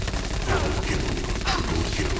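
Rapid gunfire in the multiplayer video game Knight Squad, a dense, continuous burst of shots and blasts filling the clip with chaotic game noise throughout.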